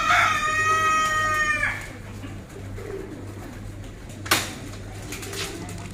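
Pigeons in a pigeon coop cooing and calling up close, with fluttery bird sounds at the start and a brief clatter partway through.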